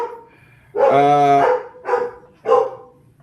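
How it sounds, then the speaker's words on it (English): Dogs bark three times in quick succession, one long harsh bark followed by two shorter ones, loud and close with no talking. "My dogs are barking"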